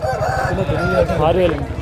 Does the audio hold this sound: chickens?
yes